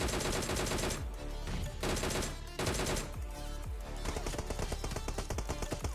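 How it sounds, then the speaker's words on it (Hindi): Gunfire in the video game PUBG, with repeated bursts of rapid automatic fire and sharp single shots that ring loud and close, separated by short pauses, over a dense layer of game sound. "पीछे काफ़ी ज़्यादा फायरिंग हो रही है"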